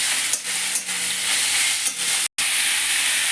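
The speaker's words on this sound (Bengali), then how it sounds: "এবার চিকেনটা দিয়ে দিলাম, চিকেনটা একটু ভেজে নিই।" Chicken pieces fry in a pan for momo filling with a loud, continuous bright sizzle, broken by a few stirring scrapes and one brief dropout.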